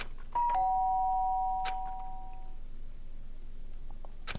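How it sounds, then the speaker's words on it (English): A doorbell rings once inside the Danganronpa video game, a bright two-tone chime that sustains and slowly decays, followed by quiet room tone with no talking. "Sharp sound of the doorbell pierced my sleepy haze and pulled me back to the real world."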